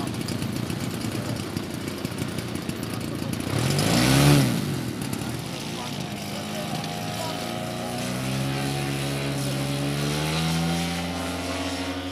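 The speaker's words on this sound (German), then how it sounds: "diese B-35 mit einem 120 Kubikzentimeter Motor" A historic B-35 model airplane with a 120 cc engine flies at a German fly-in, its droning engine continuous throughout and swelling as it passes near, with rising and falling pitch, over steady outdoor background noise.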